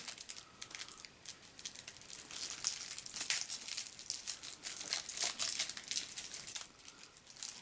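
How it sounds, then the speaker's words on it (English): Cellophane shrink wrap is crinkled and torn off a card game starter deck, giving a continuous, close, crackly rustle that swells and fades without speech. "Oh, cellophane, why do you hate me?"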